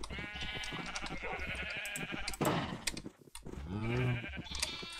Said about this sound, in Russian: А вот овцы на выход, пожалуйста.